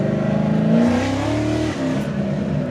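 A first-generation Cadillac CTS-V engine revs steadily up close after a belt change, its pitch climbing slightly as it pulls harder, with a brief dip partway through.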